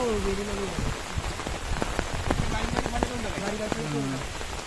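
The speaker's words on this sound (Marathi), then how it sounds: "आता पाऊस पण सुरू आहे" Rain falls after a night storm that broke tree branches, making a steady patter with sharper drips and knocks close by, while people talk in the background.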